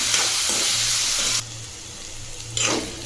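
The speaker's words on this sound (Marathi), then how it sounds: "बारीक चिरलेला बटाटा घालू बटाटा आपल्याला मऊ होईपर्यंत आता भाजून घ्यायचा आहे" Finely chopped potato goes into hot oil with green chilli, bursting into a loud sizzle that drops to a quieter steady fry, then flares again with stirring, with a low hum underneath.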